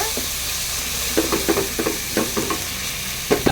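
Potato and tomato sauté in a hot pan for a Tamil kulambu, a steady close sizzle broken by a spatula's repeated stirring and scraping strokes, with no talk.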